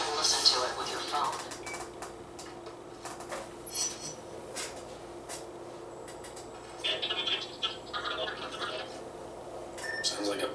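Garbled, crackly encrypted audio message played from a portable drive attached to a satellite dish in the video game inFAMOUS: faint, broken bursts of distorted chirps and clicks at low volume, with scattered sharp blips throughout.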